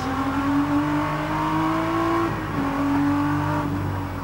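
Group A BMW race car at the Bathurst 1000 in 1984, engine revving hard as it drops into a right-hander, pitch climbing through the gears with a brief shift dip, loud and continuous with no commentary over it.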